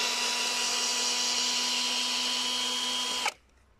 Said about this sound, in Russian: А в режиме молотка откручивает, смотрите-ка.